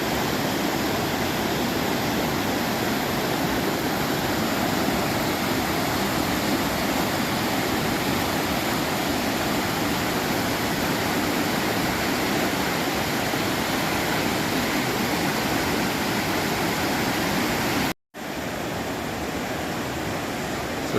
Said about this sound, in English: All these waterfalls everywhere.